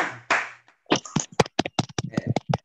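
Scattered hand claps from a small online group at a Ramadan welcoming event, a few sharp irregular claps with brief voice sounds at the start.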